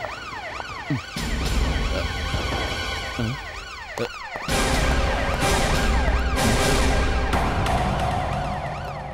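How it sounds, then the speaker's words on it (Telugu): A loud wailing siren sweeps up and down repeatedly, cutting out briefly and then resuming even louder, close by with no talking. "మన బ్యూరో సైరన్ కదా."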